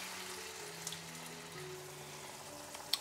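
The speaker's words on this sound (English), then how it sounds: "Let them sizzle together for a couple of minutes" Peas and pancetta frying in a pan, a steady, soft, close crackling sizzle that holds evenly throughout, with a faint clink near the end.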